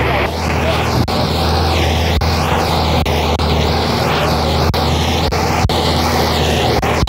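A tractor pulling a Happy Seeder across a farm field gives a loud, steady engine drone with a deep rumble. The sound runs unbroken from start to end, close by and alone.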